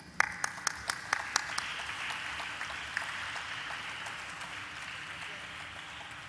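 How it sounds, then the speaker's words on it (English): Audience applause at a stock exchange listing ceremony for Senco Gold Limited, opening with a few sharp separate claps that quickly swell into steady, moderately distant clapping and then gradually fade. "let's give a warm applause"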